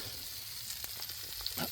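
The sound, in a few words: sausages sizzling in a frying pan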